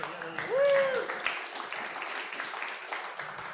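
Audience clapping at a panel discussion on critical minerals, a moderate scattered patter of hands with a brief whoop or voice rising over it early on.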